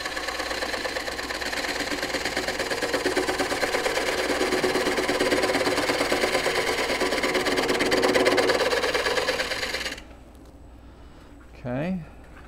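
A wood lathe spins a green wood bowl while a tool cuts a dovetail, giving a loud continuous buzzing, chattering drone that stops abruptly near the end, followed by a brief short sound.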